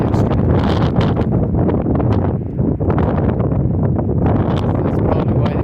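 Strong, steady wind roars and buffets the microphone near a wind farm at Tehachapi, a loud continuous rush with gusty surges throughout and no voices.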